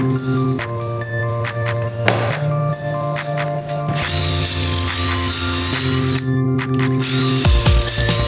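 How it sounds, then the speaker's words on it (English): Power drill boring pocket holes through wood boards with a pocket hole jig, a loud steady whine broken by repeated short bursts and pauses as the bit starts and stops, close up, no talk. "let's go ahead and start drilling out these pocket holes"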